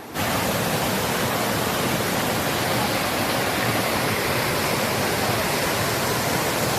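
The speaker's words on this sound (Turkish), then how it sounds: "Bizim evin önü nehir gibi gidiyor." Floodwater rushes loud and steady from a burst main pipe of a dam that has flooded a village. The broadband roar runs unbroken like a waterfall from start to end and has no voices.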